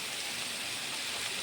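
Heavy rain pours down in a steady, unbroken wash of noise, fairly soft and distant-sounding, with no talking over it.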